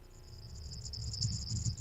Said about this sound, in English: Was that crickets?